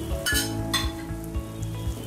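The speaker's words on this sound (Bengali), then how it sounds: "মশলাটাকে ভালোভাবে কষিয়ে নিচ্ছি" Jhal muri spice masala frying in plenty of oil in a pan, a steady close sizzle with a few sharp clinks of a utensil stirring and scraping through it.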